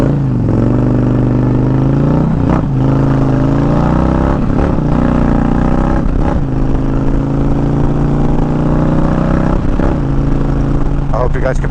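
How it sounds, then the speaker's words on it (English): A 2020 Indian Challenger Darkhorse motorcycle rumbles steadily while riding, its engine and exhaust droning loud and constant with several rev changes, heavily mixed with wind buffeting. "I hope you guys can pick up the exhaust note"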